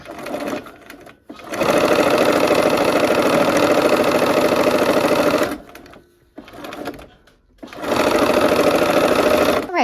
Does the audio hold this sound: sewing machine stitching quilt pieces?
yes